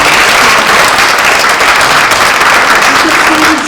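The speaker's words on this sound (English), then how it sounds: "A really big round of applause for Mike Gaskins" A round of applause from the audience at a Laguna Woods Democratic Club monthly meeting, loud and continuous with many people clapping together, a few voices faintly mixed into the crowd.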